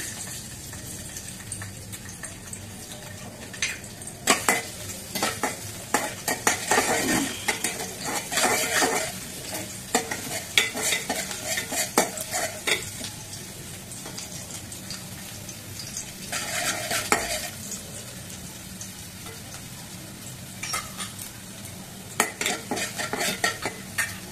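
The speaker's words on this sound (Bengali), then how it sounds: "তেল দিয়ে দিয়েছি, এর মধ্যে রসুন দিয়ে দিচ্ছি।" Garlic crackles and sizzles in hot oil in a wok, with irregular bursts of frying and the scrape and clink of a utensil stirring.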